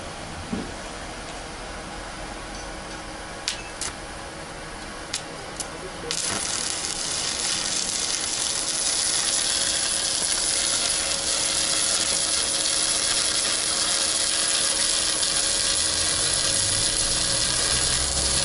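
A Kaiser MIG-305 semi-automatic welder runs with a few faint ticks, then settles into a steady hissing, crackling buzz that carries on to the end, fairly quiet and without speech.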